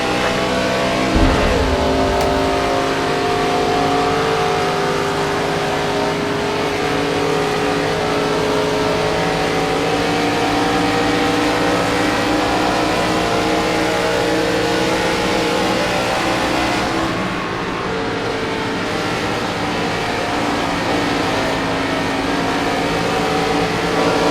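NASCAR stock cars from a 2003 iRacing career season roar off together at the green flag, a dense, loud, sustained engine drone with rising revs that holds steady for the whole stretch, with no voices.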